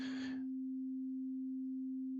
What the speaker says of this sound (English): this sine wave is a simple tone